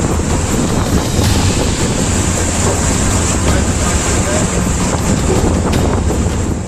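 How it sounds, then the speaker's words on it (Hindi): Strong sea waves crash into a small boat at sea as water floods in. A constant roar of surf and water mixes with heavy wind buffeting the microphone, loud and close throughout. "समुद्र की तेज लहरों की टक्कर से जब बोट में पानी तेजी से भरने लगा"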